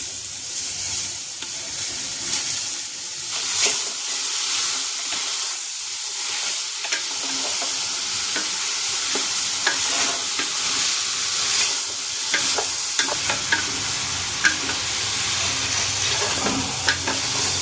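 Sliced beef and intestines sizzle in a pot for papaitan, a continuous bright hiss broken by scraping stirs and occasional pops, close and loud.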